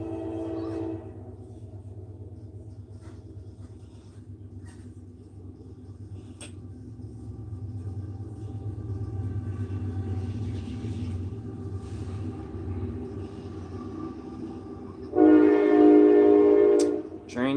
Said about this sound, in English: Train's coming. You guys hear it?